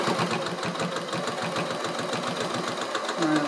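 A sewing machine runs a continuous stitch line on a zip bag, a steady close mechanical whir with rapid even ticking throughout.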